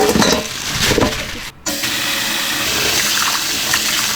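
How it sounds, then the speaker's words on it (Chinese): Lamb offal, including tripe, intestines, heart and lung, being washed under a strong stream of running water that gushes steadily and loudly, with one brief break in the flow. "先把羊杂洗一下"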